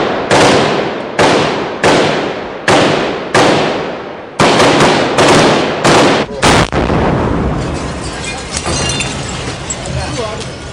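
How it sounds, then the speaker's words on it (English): Heavy artillery bombardment in the main street of Sarajevo's old town in 1992, with a run of loud, sharp blasts in quick succession followed by a lingering, noisy rumble. "a heavy bombardment in the main street of the old town."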